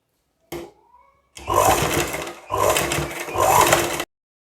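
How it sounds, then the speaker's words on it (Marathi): An electric sewing machine stitches a folded hand-sewing strip for a blouse in three quick close bursts, following a brief soft rustle of fabric handling. "हात शिलाईची पट्टी आपल्याला स्टिच करून घ्यायची आहे"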